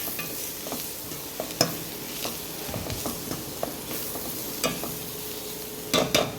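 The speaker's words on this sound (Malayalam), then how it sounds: "മസാലയൊന്ന് ഞാനൊന്ന് വഴറ്റുക, ചെറുതായിട്ടൊന്ന് ചൂടാക്കി കൊടുക്കുക." Masala for Yippee noodles sautéing in a hot pan, a low steady sizzle broken by occasional scrapes and stirring clacks from a spoon, close and fairly quiet with no talking.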